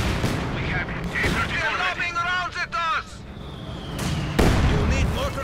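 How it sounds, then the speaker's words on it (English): Sharp bursts of mortar and gunfire crack through the Company of Heroes 2 battle, mixed with in-game voice chatter and a sustained tonal shriek between the blasts. "Continue mortar fire."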